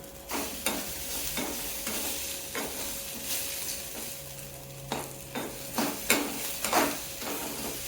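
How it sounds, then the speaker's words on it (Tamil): Pirandai, the adamant creeper, sautéing alone in a pan for a chutney, a low steady sizzle with repeated stirring scrapes clustering toward the end, close and without speech. "பிரண்டையை தனியாக தான் வதக்கணும்"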